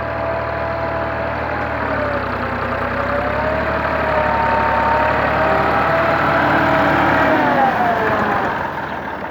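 A Massey Ferguson 260 tractor built by Millat sits idling close by, its diesel engine giving a loud, steady low rumble that stays constant throughout with a slight shift near the end.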